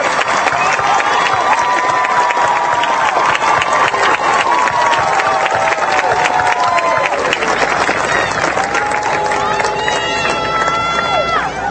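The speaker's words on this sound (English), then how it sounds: "Let's give a round of applause to all of the students graduating with a bachelor's degree." Loud, sustained applause and cheering from a large crowd at the 2014 CBU commencement for bachelor's degree graduates, continuous throughout, with voices and shouts mixed into the clapping.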